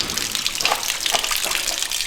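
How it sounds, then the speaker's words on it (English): Water gushes steadily from the front corner of a trailer's tank, a close, continuous splashing rush with no voices. "it's just pouring out of this front corner"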